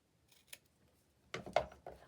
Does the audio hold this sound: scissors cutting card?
yes